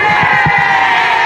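A large crowd of women dressed in pink at a breast cancer survivors' event cheers and shouts loudly and close, in a dense continuous roar with rhythmic rising pulses.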